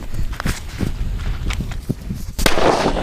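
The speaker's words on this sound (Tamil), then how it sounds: "இது வந்து வெளியில எப்படி வெடிக்குது அப்படின்றத நம்ம இப்போ செக் பண்ணிடலாம்." A small khaki bijili firecracker explodes outdoors. Sharp, short cracks sound at intervals, and the loudest bang comes near the end, followed by a brief rush of noise.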